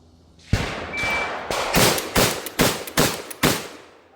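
Rapid string of loud 12-gauge blasts from a GForce Arms GFPG3 pump-action shotgun fired at targets, about six sharp reports with quick gaps between them, each followed by a short ringing decay.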